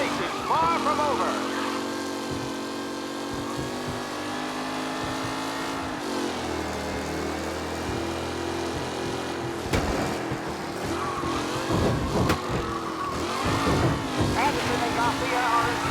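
Race car engines in Mafia Definitive Edition whine and rise as vehicles speed past in a vintage-era race, their revving tones shifting pitch with passing bursts and tire noise while a commentator talks over them.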